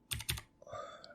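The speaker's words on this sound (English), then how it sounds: "So if I start typing in paintball," A few quick keystrokes on a computer keyboard, two crisp clicks close by and then a softer tap, heard alone.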